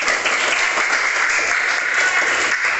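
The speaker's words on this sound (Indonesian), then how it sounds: "Oke, tepuk tangan untuk kita semua." Dense, steady applause from a full classroom of students during an Indonesian social studies teaching-practice lesson, sustained and even for the whole stretch with no pauses.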